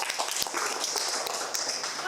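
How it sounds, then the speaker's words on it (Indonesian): An audience applauding a presenting student group at a university broadcasting and film session in Indonesia, a steady patter of clapping that continues throughout with voices mixed in. "Beri tepuk tangan dulu buat kelompok 2."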